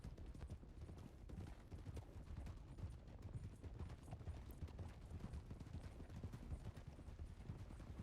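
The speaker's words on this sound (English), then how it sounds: "that was a wild horse" A wild horse's hooves clip-clop in the Red Dead Redemption roleplay game, a quiet, steady stream of hoof beats with faint rumbling underneath.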